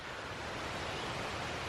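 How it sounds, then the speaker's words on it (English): Stream flowing near a campsite on the Appalachian Trail, a steady close rushing wash of water that holds even and unbroken through the brief moment. "You can hear the stream behind me probably."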